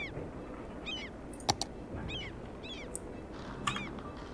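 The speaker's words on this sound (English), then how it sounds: "why are there seagulls around?" Seagulls call in the Cities Skylines video game, several squawking cries repeating at intervals and overlapping, with a couple of sharp clicks, fairly faint over a steady background hum.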